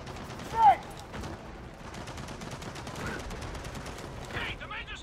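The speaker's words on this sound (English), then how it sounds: "Machine gun nest!" Rapid gunfire bursts rattle continuously through a Gears of War 4 co-op firefight near a machine gun nest, with a brief whistling tone at the start, steady and fairly close.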